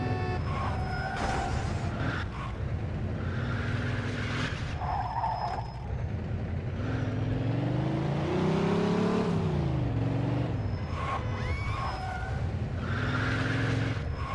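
A car in the Mafia II video game drives hard without a break, its engine revving up and down in steady sweeps while tires skid and squeal, loud and close, with no voices over it.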